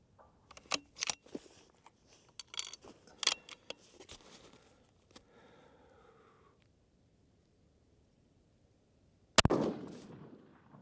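A 6.5 PRC benchrest rifle fires on a range: a cluster of sharp, loud reports with ringing tails comes early, then a quiet stretch, then one more sharp blast near the end.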